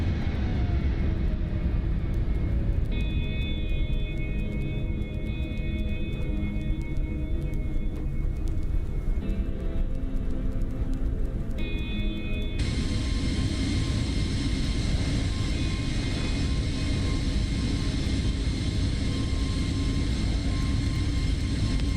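A simulated aircraft passes by in Microsoft Flight Simulator as a steady, loud broadband engine roar with faint whining tones, growing brighter and fuller partway through and holding steady to the end.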